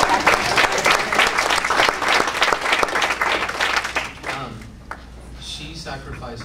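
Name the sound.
audience applause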